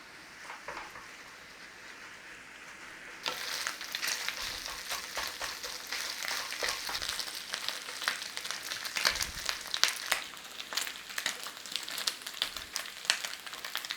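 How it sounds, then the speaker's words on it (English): Bacon rashers crisping in a pan, a dense steady crackle and spit of sizzling fat that jumps louder a few seconds in and keeps popping close and continuous. "away until we crisp up that bacon"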